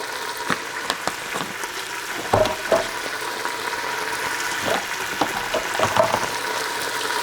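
Oil sizzling in a pan with garlic powder and spices toasting for bean seasoning, a soft steady crackle with a few scattered clinks and taps from stirring.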